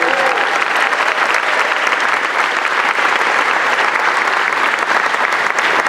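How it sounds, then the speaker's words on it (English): Dense, steady applause from a crowd at an outdoor public event for a motorcycle ride in Utica, loud and continuous throughout with no pauses. "Tony Picente, let's give him a round of applause"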